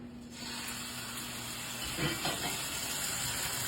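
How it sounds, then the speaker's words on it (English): Steady hissing sizzle of meat searing in a hot cast iron skillet for pot roast, a broad continuous crackle with a brief clatter partway through. "Listen to that sizzle."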